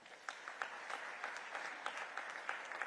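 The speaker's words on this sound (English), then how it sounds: "May I request the audience to please give a round of applause to the four speakers of this session" Audience clapping at an army chiefs' conclave in Pune for the four speakers of a session; fairly quiet, distant applause with individual claps audible as a loose, irregular patter.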